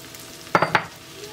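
Onion frying alongside mushrooms in butter and oil, a quiet sizzle with a quick burst of three scraping stirs in the middle.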